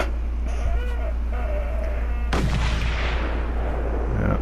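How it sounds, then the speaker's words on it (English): Gunfire aimed at the player in the Mad Max video game, with booming shots and a sharp blast that decays, ringing over a steady game background. "While I'm being fired at."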